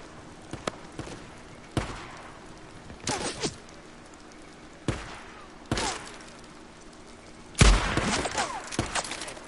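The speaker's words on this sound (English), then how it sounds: "I'm being shot from a few different directions." Gunfire in the video game Days Gone comes from several directions as scattered single sharp shots and short clustered bursts at irregular intervals. Some are louder and nearer, others more distant, with no talking.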